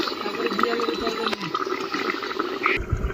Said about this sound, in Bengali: মাছটা দিয়ে দিয়েছি, একটু ঢাকা দিয়ে ফুটিয়ে নেব।